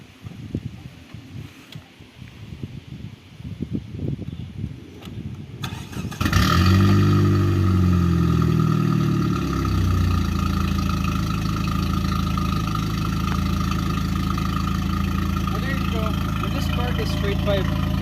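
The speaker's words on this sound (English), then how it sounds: "I'll start the car up right now to let you hear that sound." A 1991 Ford Probe GT with a straight pipe exhaust cranks and fires up, then settles into a loud, raspy, steady idle close by, with someone talking quietly before the start.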